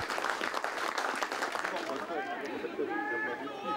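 Rugby crowd at a Glasgow Hawks match applauding in sympathy as an injured prop is carried off, a faint, distant scatter of clapping over the first couple of seconds, then fading into murmur and a commentator's voice.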